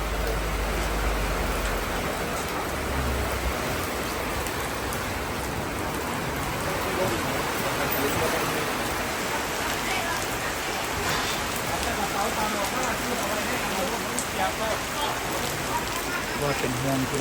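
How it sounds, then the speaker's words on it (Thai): Heavy rain pours steadily and loudly onto an outdoor stage area, a dense continuous hiss and patter of drops filling the whole stretch with no pause. "ฝนตกนะคะ"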